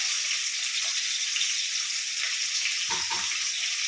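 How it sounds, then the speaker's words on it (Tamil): Ginger and garlic sizzle steadily in hot oil in a pan while making chicken curry, a constant bright frying hiss with a brief stir or clatter near the end. "இப்போ இஞ்சி பூண்டு இஞ்சி பூண்டு போடுறோம்."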